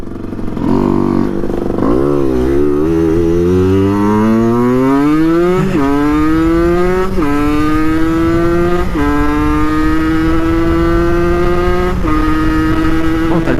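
A Peugeot NK7 engine close up while driving, revving and climbing through gears in repeated rising sweeps, each pull dropping briefly at a shift before building again, loud and continuous.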